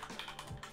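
Quiet typing on a computer keyboard while entering text into a trading platform, a rapid string of soft close key clicks at low level.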